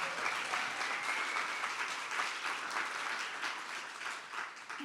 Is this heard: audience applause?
yes